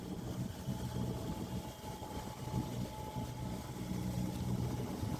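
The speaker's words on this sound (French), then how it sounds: "On en a marre de faire du moteur." A sailboat's motor runs steadily at low, even volume, a continuous droning hum with a faint tonal whine and no change in pace, heard alone without voices.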